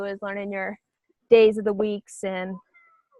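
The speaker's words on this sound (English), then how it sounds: "that was my cat." A pet cat meows briefly and faintly at a distance during an online meeting, its short cry slipping in between stretches of a person speaking close to the microphone.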